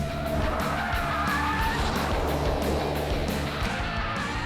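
A Jaguar driven hard around a track for a quick lap, engine roaring steadily close by with tires squealing and skidding through the corners, loud throughout.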